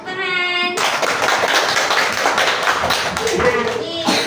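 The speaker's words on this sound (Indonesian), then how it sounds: "Ya, tepuk tangan." Hands clap in a primary school setting. A brief voice is followed by dense, close, fairly loud clapping that runs steadily for several seconds.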